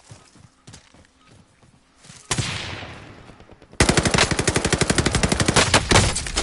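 Gunfire in the video game Call of Duty: Warzone, starting with scattered distant shots, then a loud burst and a rapid, sustained machine-gun volley of evenly spaced cracks close by.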